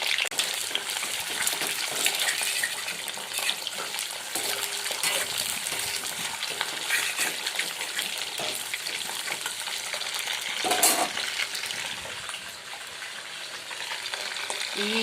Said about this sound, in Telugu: ఇది ఎగ్స్ అయితే వేసేస్తున్నాను. వేసేసాను. కొంచెం వేగనిచ్చేస్తాను.